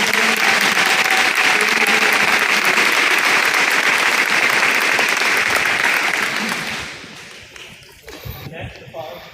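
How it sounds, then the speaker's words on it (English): Loud, sustained applause from a crowd at a senator's town hall meeting, steady clapping for several seconds before tapering off into scattered claps and quiet. "Let's give them a round of applause."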